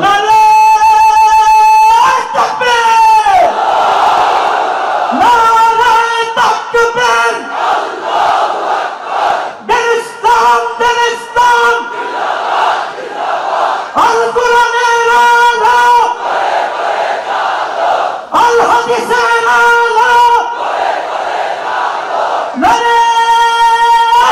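A large crowd chants the takbir in unison at a Sylhet Islamic gathering, loud and close, the rhythmic chant repeating in bursts across the span with harmonic voices swelling and pausing between calls.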